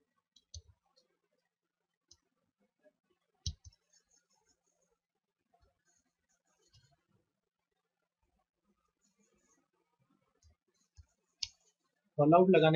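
A computer mouse clicks sharply in sparse single and double taps during spreadsheet work, close and crisp against near silence, before a voice starts talking at the very end.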